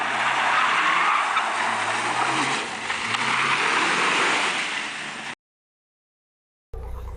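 A stock 2005 Mitsubishi Lancer Evolution VIII drifting at a sawmill, its tires squealing in a long, loud, continuous skid under engine noise for about five seconds, then a brief silence before the sound resumes.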